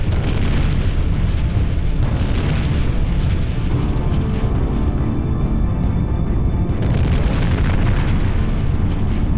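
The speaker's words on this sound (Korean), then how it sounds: "굉음과 함께 배수비오 화산이 폭발한 것이다." Mount Vesuvius erupting, rendered as a loud, continuous rumbling roar with deep booming blasts swelling twice, dense and overwhelming from start to finish.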